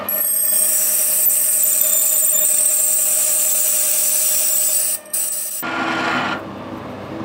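A blunt drill cuts into bronze in a machine shop at an 80 mm hole depth, giving a loud, steady, high-pitched grinding squeal that breaks briefly, then ends in a rougher, shorter scraping rasp.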